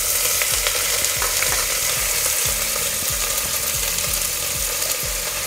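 Sliced onions and whole spices (mace, cinnamon, shahjeera) sizzle steadily in hot oil for mutton pulao, a loud continuous frying hiss with rhythmic low scraping strokes of a ladle throughout.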